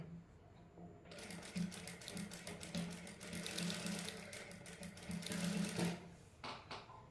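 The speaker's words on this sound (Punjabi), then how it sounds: "ਲੈਸ ਦੀ ਕੰਨੀ ਕੰਨੀ ਤੇ ਸਲਾਈ ਲਾਉਣੀ ਹੈ ਉੱਪਰ" A sewing machine stitches along the edge of net lace sewn onto a sleeve, a steady, fast mechanical whir and clatter running for about five seconds before stopping, with a few faint clicks afterward.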